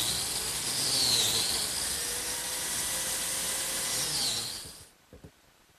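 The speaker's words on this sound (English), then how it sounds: "Now some slots for biscuits, both in the plywood and in the oak." Biscuit joiner cutting slots into plywood and oak edges, a steady loud high whine that runs about five seconds with a brief swell near the start, then stops abruptly into near silence with a couple of faint knocks.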